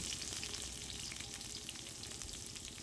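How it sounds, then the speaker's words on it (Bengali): Chopped onion frying in hot oil with dried and green chilies, bay leaf and five-spice, a steady dense sizzle and crackle running continuously at close range, with no talking. "পেঁয়াজগুলোকে ভালোভাবে ভেজে নেব"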